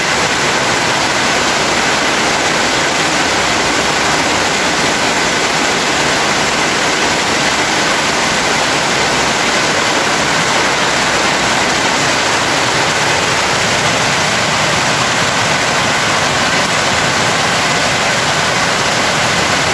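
Heavy rain pours down in a continuous, dense, loud roar that never breaks, with no voices over it.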